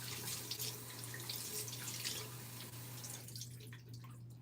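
Water runs steadily from a tap in a close, constant hiss that drops away abruptly near the end, with no talking over it.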